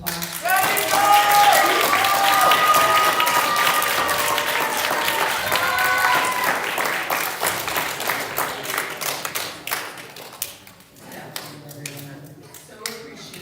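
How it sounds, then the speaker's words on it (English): A school audience applauds a class's reader's theater performance, loud and continuous at first with voices mixed in, then thinning to scattered claps that trail off near the end. "So please give Miss Abba's class a nice round of applause."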